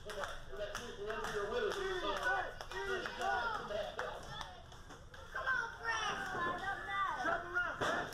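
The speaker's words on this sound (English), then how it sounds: "Crowd fully into it." A wrestling crowd cheers and claps with many excited voices, some high-pitched like children, swelling and easing in waves, with commentators talking over it.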